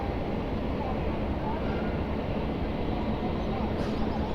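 Hemkunt Express hauled by locomotive 39472 from the Ghaziabad shed pulls away, giving a steady, dense rumble that holds even and close throughout, with no clear breaks.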